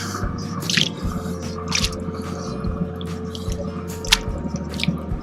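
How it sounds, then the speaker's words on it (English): Smoked chicken wings are tossed in Carolina Gold sauce, producing repeated wet squishing and dripping slaps in rhythmic bursts, close and fairly loud, with no voices. "give it a toss to our Carolina Gold wings"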